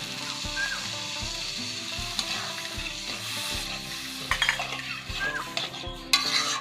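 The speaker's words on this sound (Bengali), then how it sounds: "এখন আমি জল দিয়ে দিচ্ছি।" Fried spice paste for a yogurt gourd and prawn curry sizzling loudly in oil as water goes in, a dense hiss with scraping ladle strokes and several metallic clinks against the pan.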